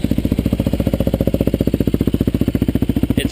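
A Yamaha WR250R supermoto idles close by, a loud, rapid and very even single-cylinder thump that holds steady throughout with no voices.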